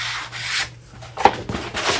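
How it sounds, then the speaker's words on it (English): A squeegee rubs architectural vinyl wrap onto a flat cabinet door, giving soft, steady swishing strokes with one sharper scrape partway through, close and fairly quiet with no voices. "Grab your squeegee. You don't have to push hard, just enough to just to tack it on."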